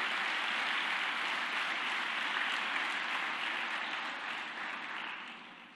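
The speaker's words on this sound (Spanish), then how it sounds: "Dele un aplauso a él con alegría." A church congregation applauding joyfully during a sermon, producing a broad, even wash of many hands clapping that holds steady for several seconds before easing off slightly at the end, with no voices.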